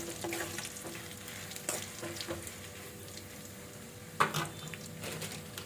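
Bird eye chilli pickle being stirred with salt in a pan, a steady wet sizzle and scraping churn running throughout, with a few sharper clinks of the spoon against the pan and no talk.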